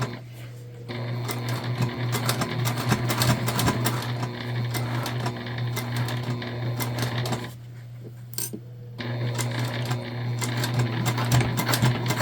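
A sewing machine stitches a Zora shoulder bag with a steady, fast mechanical whir and rapid needle clatter, loud and close, running continuously before a brief pause and then starting up again.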